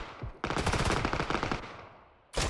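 Rapid automatic gunfire in the battle royale game PUBG rattles out loud and close in a sustained burst lasting nearly two seconds, then breaks off, with a short fresh burst starting at the very end.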